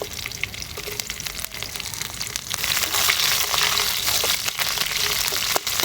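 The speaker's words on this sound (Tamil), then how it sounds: "கூடவே கொஞ்சம் கொஞ்சோண்டு சோம்பு கொஞ்சம் வெந்தயம் அதை நம்ம இது கூட சேர்த்து தாளிச்சு கொஞ்சம் கருவேப்பிலை சேர்த்து" Fennel seeds, fenugreek, curry leaves and crushed garlic crackle in hot oil as a tempering for a village-style dried fish curry, a close, continuous sizzle that swells louder midway with scattered pops.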